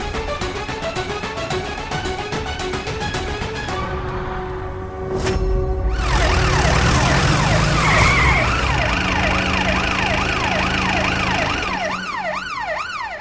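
A police siren wails as it arrives, its rising and falling tone loud and close over dramatic background music in a Turkish-dubbed Indian TV drama.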